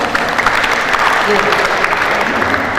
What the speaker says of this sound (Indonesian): Tepuk tangan untuk para peraga.